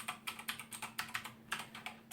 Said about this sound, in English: This is a Geezer keyboard. It has clone switches, clone Cherry MX Blue switches.